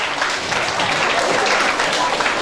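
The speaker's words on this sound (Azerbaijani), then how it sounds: "Alqışlayırıq media nümayəndələrin." Crowd applause at an Indian–Azerbaijani cultural exhibition, a loud, even wash of clapping with voices murmuring underneath throughout.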